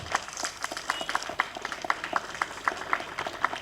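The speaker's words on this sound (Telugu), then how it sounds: "సో ఆమెను గట్టి చప్పట్లతో ఆహ్వానిస్తున్నాం." A small audience at a statue unveiling ceremony claps to welcome a woman on stage, producing scattered, moderately faint hand claps in an uneven rhythm.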